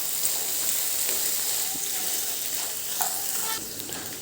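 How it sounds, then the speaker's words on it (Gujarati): Black-eyed beans (chori) sizzle and sauté in hot oil over a medium flame, a close, steady frying hiss broken by a few soft stirring scrapes, with no talking. "તેલ આપણું ગરમ થઈ ગયું છે, તો એની અંદર આપણે આ ચોળીને થોડી સાંતળી લેવાની છે"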